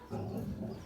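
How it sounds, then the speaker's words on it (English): A dog woofs close by, giving a short, low muffled bark and whine that fills most of the brief moment, with no talking over it. "And that's my dog woofing."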